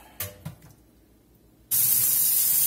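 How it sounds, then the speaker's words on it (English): Trigger pumps of a spray bottle misting disinfectant onto a turkey on a rack, two short spritz bursts followed by a long, loud continuous hiss of spray close by. "we'll get this sprayed up with some disinfectant"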